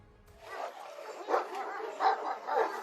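Kangal and Aksaray Malaklı shepherd dogs give several deep, rough barks in close succession, fairly near and loud, with a rhythmic pattern of about four barks and no talk.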